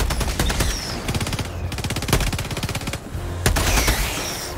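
Rapid, sustained bursts of Gatling gun fire in a video game, dense rattling volleys with brief pauses between them, loud and close throughout.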